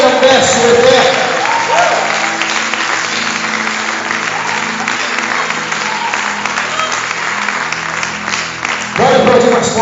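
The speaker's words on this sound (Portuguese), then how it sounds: "Bora aplaudir mais forte" A church congregation applauds in worship, dense sustained clapping from a large crowd filling the space, with a voice speaking over it at the start and end.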